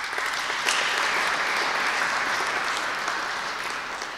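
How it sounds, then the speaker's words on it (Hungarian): Audience applause at a university science festival opening ceremony, an even, sustained wash of many hands clapping that fades slightly toward the end. "tapsoljuk meg őt is."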